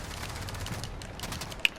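Rapid assault rifle fire in Call of Duty Modern Warfare, a quick run of crisp repeated shots at a steady high rate, fairly quiet in the mix with one sharper crack near the end.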